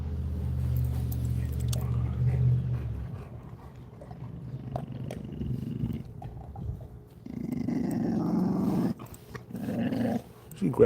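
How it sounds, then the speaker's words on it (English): A Presa Canario-type dog growls while eating, with low rumbling growls that rise and fall in bursts across the clip, heard close and fairly loud. "You growl at your daddy like that for?"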